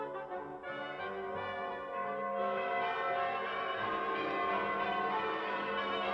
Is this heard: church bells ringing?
yes